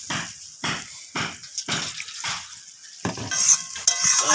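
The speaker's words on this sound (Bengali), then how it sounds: "এবার আমি এখানে দিয়ে দেব সামান্য পরিমাণ জল" Water is poured into a sizzling tomato rohu fish gravy, bursts of frying hiss and bubbling with stirring, then a steady crackling simmer continues, loud and close.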